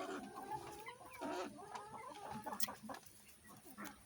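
Chickens clucking inside a coop, several birds overlapping in busy, continuous chatter with a sharper squawk partway through, close and fairly loud.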